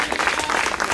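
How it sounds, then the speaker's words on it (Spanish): A church congregation at a baptism service applauds, with dense, steady clapping from many hands that continues evenly throughout. "¡Desde los fuertes, aplausos, señores!"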